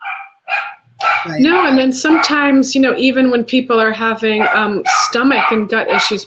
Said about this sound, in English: pardon my dogs, can you hear them?